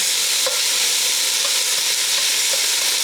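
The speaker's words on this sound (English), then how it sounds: "I'm just going to put my vegetables in right into that bacon fat" Vegetables fry in hot bacon fat for Lowcountry Hoppin' John, a steady close sizzle with a few soft stirring clicks on top and no talking.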